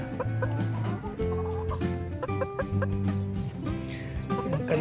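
Big chickens cluck steadily over a busy farmyard mix of other birds. The clucks come in overlapping, repeated bursts, close and moderately loud, with no pause between them.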